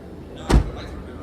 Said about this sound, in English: So let's just shut the door.